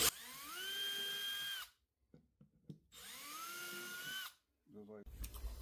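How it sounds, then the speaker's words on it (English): Two bursts of a power drill spinning up while pre-drilling holes, each whining steadily for about a second and a half, separated by a pause with small clicks and handling noises. "I'm just going to pre-drill"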